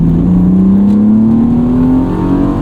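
A 1998 BMW E36 M3 sedan's engine pulls hard as the car accelerates, with a loud, steady note rising smoothly in pitch, heard from inside the cabin.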